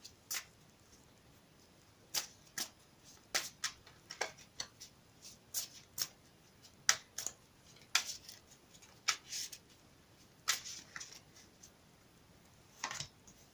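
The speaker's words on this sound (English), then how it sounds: "I will shuffle them again for you on camera" Crisp, snappy riffling bursts repeat irregularly over several seconds, like cards being shuffled and tapped close up in a quiet room.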